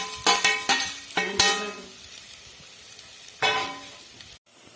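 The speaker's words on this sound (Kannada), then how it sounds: "ಎಣ್ಣೆ ಬೆಚ್ಚಾಂಡು ತಾರಾಯಿ ಪಾಡೋದ್ನುಲ್ಲ ಫ್ರೈ ಮಲ್ಪರೆ ಈಗ" Grated coconut fries in heated oil for a Mangalore-style clam sukka, giving a crackling sizzle with sharp scraping and clinking of a utensil stirring in the pan, loud at first and then fading.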